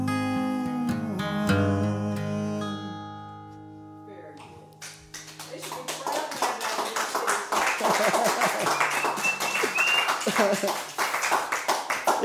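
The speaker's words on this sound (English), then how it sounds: "Isn't it nice to hear the real applause" A live audience bursts into dense, sustained applause after sustained tones fade, the clapping swelling and staying loud for several seconds.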